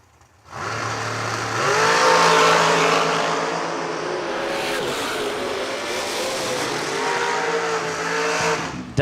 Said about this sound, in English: the nitrous injected, turbocharged dragster out of Bradenton